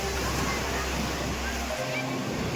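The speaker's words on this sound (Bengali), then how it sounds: "পুরীর ঢেউ অসাধারণ" Sea waves on the beach at Puri wash in as a continuous broadband roar filling the whole short stretch, loud and close, with faint voices blended in.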